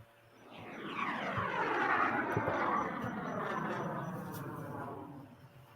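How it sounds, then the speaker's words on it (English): A Dassault Rafale fighter jet flies a solo airshow display, its roar swelling as it sweeps past, peaking, then slowly fading into the distance, with no talking. "And that is the Rafale solo display here."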